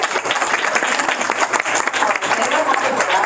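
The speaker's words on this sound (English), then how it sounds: "So please give them a round of applause because they did really well." A dense burst of clapping from the audience at a board meeting, close and loud, lasting a few seconds with no pause.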